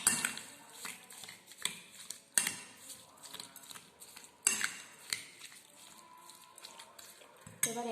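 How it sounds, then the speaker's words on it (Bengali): A spoon stirs three large spoonfuls of sugar into a mixture for chhena poda, giving repeated scraping clinks against the bowl in an irregular rhythm, close and fairly clear, with no talking. "এবার ভালো করে একটু মিশিয়ে নেব।"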